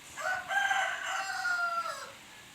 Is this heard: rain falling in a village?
no